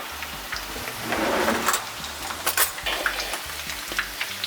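Coconut shrimp frying in oil on a stovetop, a steady crackling sizzle with scattered pops, close and moderately loud throughout.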